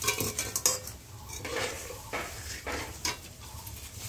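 A pot cooks over a traditional clay stove, with metal ladle scrapes and clinks against the vessel coming in uneven bursts over a low simmer.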